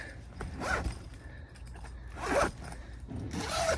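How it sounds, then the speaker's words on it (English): The zipper on a Campros 8-person tent door is pulled in three quick rasping strokes, close by, with short pauses between each pull and no voices. "And you can zipper the door shut for safety as well."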